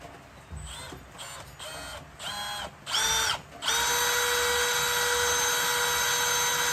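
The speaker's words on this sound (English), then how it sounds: "Drill a pilot hole." A power drill with a 2mm bit bores a pilot hole for boat trailer lights, starting in several short whining bursts that climb in pitch before settling into one steady, loud, continuous whir.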